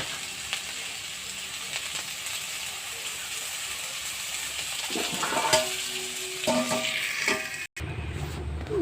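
Potato peels frying in a pan on low heat in a home kitchen: a soft, continuous sizzle and crackle, with clinks of a utensil or lid near the end.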